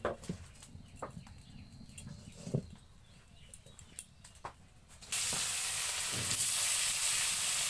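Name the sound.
rohu fish frying in hot oil in a wok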